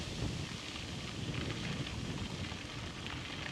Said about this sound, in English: Bit of a headwind